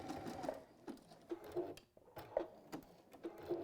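A sewing machine stitches up and over fabric binding near a seaside-print project, giving short, close bursts of rapid needle chatter separated by brief pauses, with no talk.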